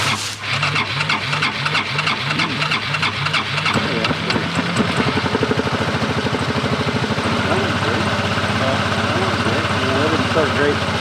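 A 2016 Yamaha SMAX 155 scooter engine runs steadily at idle up close, with a loud, continuous mechanical hum and a rhythmic pulsing that settles after a rougher start.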